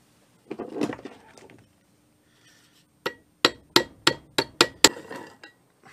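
A roll pin being hammered into a bench vise with a roll pin punch: seven sharp, evenly spaced metallic strikes, close and loud, following a brief muffled handling noise.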